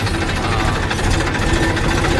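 A tractor engine runs close by with a dense, steady rattling chug and vibration, continuous and loud throughout the short stretch on a farm track.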